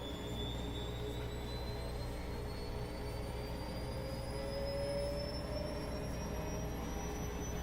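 Bosch washing machine running its spin cycle in a diagnostic test, a loud steady whine and rumble with a slowly rising pitch, continuous throughout without talk.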